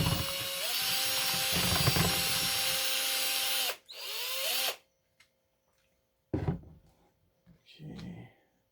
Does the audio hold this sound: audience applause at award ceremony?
no